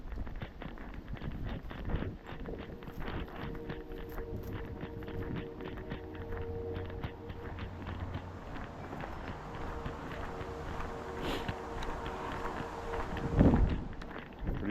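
Wind blows outdoors on a cold night walk in Maine, a steady broadband rush with buffeting on the microphone, mixed with the walker's footsteps and a louder gust near the end.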